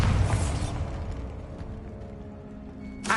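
A Bombarda spell blast in Hogwarts Legacy: a loud, close explosive burst at the start that decays into a rumbling, ringing tail, followed by a brief sharp hit at the end.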